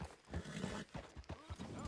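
Horse hooves clip-clopping in Red Dead Redemption 2, a run of rhythmic thuds about four or five per second, close and moderately loud, with a voice talking over the steps.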